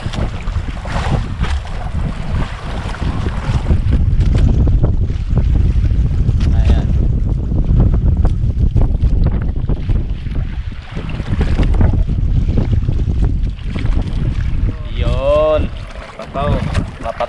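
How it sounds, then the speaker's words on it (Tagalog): Strong wind and heavy sea waves roar steadily around a small fishing boat out on rough water, loud and close, with a voice talking briefly near the end. "Malakas talaga yung alon mga ka-brothers."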